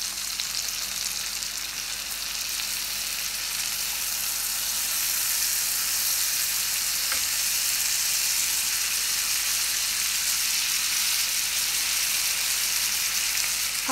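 Tandoori chicken pieces fry in a pan on the stove with a loud, steady, hissing sizzle that runs unbroken for nearly fourteen seconds, with one small click partway through.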